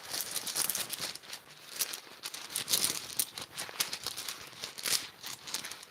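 Tarot cards shuffled by hand in a quiet room, a continuous close crisp riffle and flutter of cards with soft bursts and patters, alone without talk.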